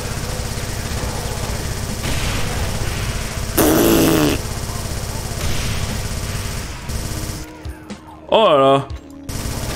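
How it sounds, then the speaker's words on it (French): A Gatling gun spins up and fires in the Doom video game, a dense, rapid stream of shots with loud bursts, while a man briefly exclaims and other game sounds cut in near the end. "le tir secondaire de la Gatling, c'est pour... Voilà, c'est pour enclencher le canon"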